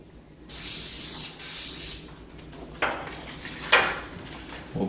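An airbrush sprays Auto Air transparent black paint in two close hissing bursts of about a second each, followed by softer short puffs and light clicks of handling.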